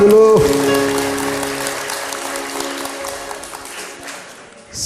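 An audience breaks into steady applause right as a sung tune ends, a dense clatter of many hands filling several seconds and easing slightly toward the close.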